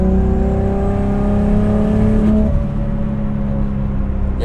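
A 600 HP Nissan R33 Skyline with an RB25 NEO engine holds a deep, steady roar, its pitch rising slightly before easing off into a lower idle rumble.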